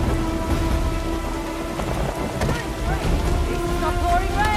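Heavy rain pours steadily in the video game Uncharted The Lost Legacy, a dense continuous wash with distant thunder rumbling underneath and faint game tones layered in.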